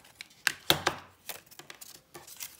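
Scissors cut the paper flaps of a handmade journal pocket in a few short, close snips and crisp crackles, quiet and without talk.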